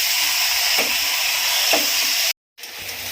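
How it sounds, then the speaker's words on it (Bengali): Mutton pieces sizzle as they are sautéed in a pan, a steady frying hiss with a couple of soft stirring scrapes, cut by a short moment of silence near the end. "মাংসটা আমি এখন এইরকমভাবে কষতে থাকবো, যতক্ষণ না মাংস থেকে তেল ছেড়ে যায় ততক্ষণ আমি এরকম কষতে থাকবো।"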